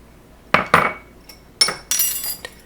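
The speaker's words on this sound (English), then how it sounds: "I prefer mixing it with a whisk just to make sure the salt and sugar gets distributed evenly" A whisk stirring flour, sugar and salt for an apple pie crust in a bowl, giving a few sharp clinks and scrapes against the side, close and crisp with pauses between strokes.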